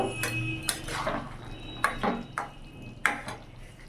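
A metal spoon stirs fried paneer and mixed vegetables in a pan, giving a few sharp scraping clinks and knocks at an uneven pace over a quiet, faint sizzle, close by and alone.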